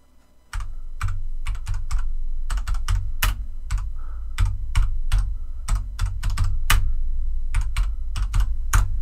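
Computer keyboard typing, crisp clickety-clack keystrokes in quick irregular bursts with brief pauses, loud and close with no talk.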